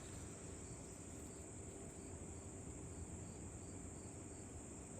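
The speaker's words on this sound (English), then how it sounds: "just us and the crickets now." Crickets chirp steadily at night outdoors, a continuous faint high-pitched trill over a low background rumble, constant in level throughout with no voices.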